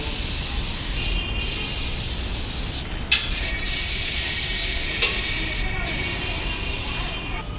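A spray gun lays a primer coat on the bonnet of a modified Jeep 540 in a workshop, a loud continuous hiss of atomised paint up close, broken by brief pauses and short releases of the trigger.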